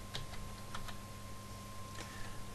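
Someone types a CD name on a computer keyboard, a few light, sparse key taps over a constant electrical hum with a faint tone.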